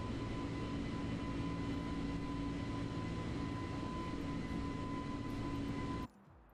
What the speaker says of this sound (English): you go outside the plane and the noise is horrendous.